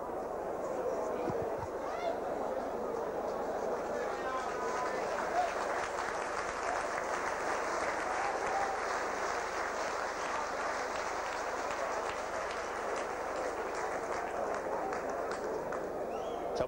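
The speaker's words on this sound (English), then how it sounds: "Tommy Prodgham receiving the applause of the crowd." Crowd applause at a St Helens v Featherstone rugby league match in 1989 after a try, a broad steady wash of clapping and crowd noise from the stands lasting throughout, with no clear break.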